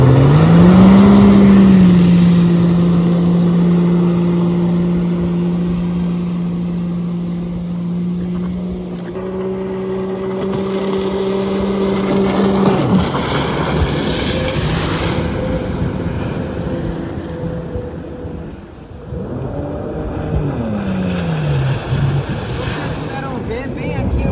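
A 2020 Yamaha VX Cruiser jet ski runs on open water. Its engine drones loudly, then the pitch drops sharply as the rider brakes, among wind buffeting and rushing spray.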